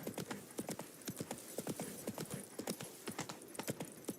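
Roach, Geralt's horse in Witcher 3, trotting at a steady even rhythm of crisp, close hoof clops with no talking over them.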